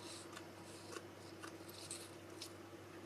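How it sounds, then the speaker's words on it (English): Scissors snip a strand of craft pearls in a few faint, quiet cuts over a soft, steady background hum. "I cut off one string"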